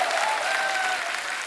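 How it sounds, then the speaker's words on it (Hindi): Studio audience applause on a comedy talk show, steady dense clapping filling the whole moment at a loud, even level. "आपकी ये तालियां,"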